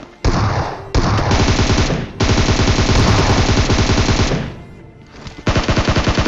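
Loud, close automatic gunfire from a battle royale video game, long rapid bursts separated by short pauses, ending with a quick volley of shots.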